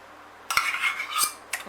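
Curried chicken with a cup of yogurt mixed through it in a pan, stirred with a metal utensil that scrapes and clinks against the pan in a few short bursts, close and alone with no talking.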